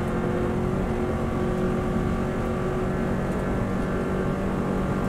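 A Subaru WRX STI at full power on an Isle of Man road lap gives a steady, loud, continuous engine drone with wind noise, holding constant throughout with no talk.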